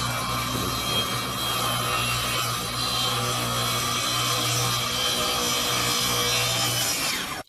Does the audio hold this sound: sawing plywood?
yes